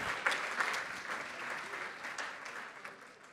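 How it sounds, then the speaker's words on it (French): Audience applause at a supply chain awards gala, a moderate steady patter of clapping from a seated crowd, fairly distant and continuous throughout. "On peut applaudir Adameo"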